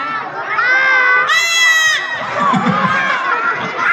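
A crowd of voices shrieks together in imitation of a scream, rising to a sharp high peak, then breaking into mixed shouting and chatter.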